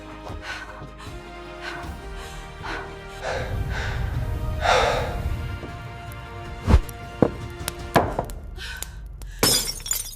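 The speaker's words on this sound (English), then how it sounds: "The glass trembles and shatters" Glass trembles and then shatters in a tense, dark scene: a low rumbling bed gives way to several sharp, loud crashes and crackling impacts near the end, with faint breathing underneath.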